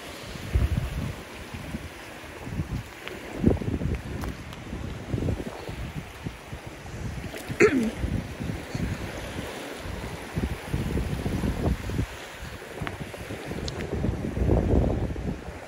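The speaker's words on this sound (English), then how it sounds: "it's hard to hear me on a beach because it's so windy" Gusty wind buffets the microphone with low rumbling on a beach on Sanibel Island, over a faint wash of surf, with no talking.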